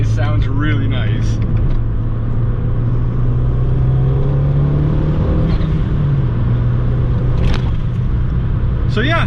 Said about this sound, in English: I actually enjoy just hearing all of those turbo sounds